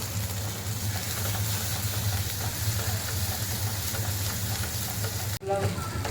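Onion-spice paste frying in oil for sev bhaji makes a dense, continuous near sizzle under a steady low hum, with a brief dip and clatter near the end.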